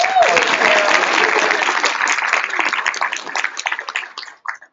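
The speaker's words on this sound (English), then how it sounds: "Give her a round of applause." Loud, dense applause for a woman from a live audience rolls on steadily, then breaks into a few scattered claps before dying away.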